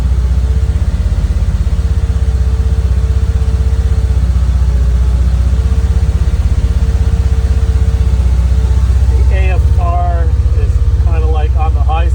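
A car engine idling steadily during a cold startup, a loud continuous low rumble throughout, with a person talking over it near the end.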